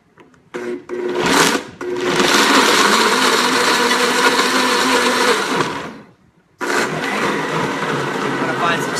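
Smoothie whirring in a blender, a short pulse followed by a long steady loud whir that stops, then restarts after a brief pause, close and dominant.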